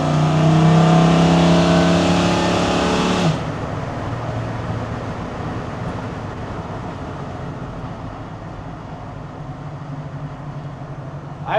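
A 1968 Chevrolet C10 pickup with a 496ci big-block stroker V8 roars hard under acceleration, loud and close for about three seconds, then drops away to a steady, fainter engine drone and road rumble.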